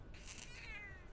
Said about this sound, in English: Oh, I got a kitty cat.